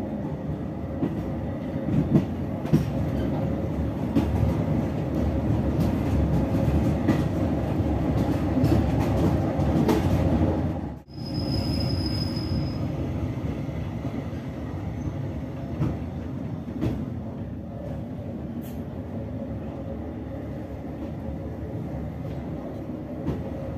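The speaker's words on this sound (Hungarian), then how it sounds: "megáll a vonat a megállóhelyen, elindul, majd kb. 1 perc múlva elmegy a település mellett közvetlenül" A train on Hungarian railway line 94 pulls away from a village halt and rolls past close by, a steady loud rumble of wheels and carriages with a brief dip midway and a faint high squeal.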